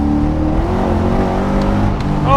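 An LS-powered (L33 V8) Nissan 240SX S13 coupe accelerates hard from inside the car, its loud engine drone climbing steadily in pitch throughout.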